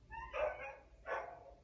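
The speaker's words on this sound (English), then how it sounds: "I'm going to just peek my head out the window because I hear a dog crying." A dog in the distance cries out in two drawn-out whining yelps about a second apart, faint and alone with no voices over it.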